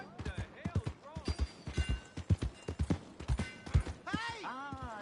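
Horse hooves clip-clop in a quick, irregular rhythm in the Red Dead video game, close and clear, ending with a whinny-like call.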